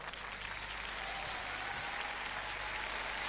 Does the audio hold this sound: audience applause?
yes